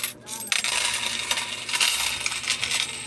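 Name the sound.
loose peso coins dropping and being counted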